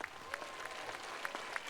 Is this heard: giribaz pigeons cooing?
no